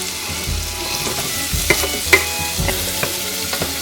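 Onions fry in butter and olive oil in a pan, sizzling steadily and loudly while a utensil stirs and scrapes in irregular knocks, with no talk.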